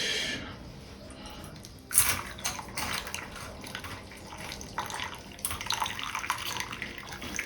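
Ginger water being poured into freshly made tea in a kitchen, a trickling, splashing stream with irregular bursts that runs for several seconds, close by and moderately quiet.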